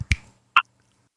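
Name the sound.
finger snapping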